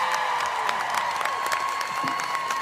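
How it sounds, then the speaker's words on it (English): Live audience at a Dierks Bentley taping of the Armchair Expert podcast claps in a dense, steady wash of applause with scattered cheers, while a faint sustained tone runs underneath. "please give Mr. Dierks Bentley a huge round of applause"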